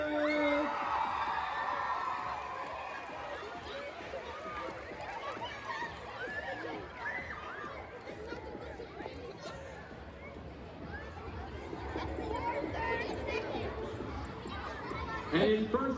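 Crowd cheering and whooping at a cheerleading competition awards ceremony, a busy mix of shouts and chatter that swells near the start and again toward the end, with an announcer's voice over it.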